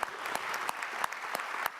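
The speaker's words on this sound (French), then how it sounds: "vous pouvez l'applaudir" Brief applause at a plenary session on urban agriculture, with a handful of sharp, spaced claps standing out over a soft wash of clapping.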